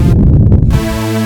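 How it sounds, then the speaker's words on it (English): Detuned stacked saw-wave hypersaw from an Access Virus TI synth, a loud, dense, buzzing sustained chord whose bright top shifts at first and then settles into a steady held tone, with no voices. "That's the hypersaw in a nutshell."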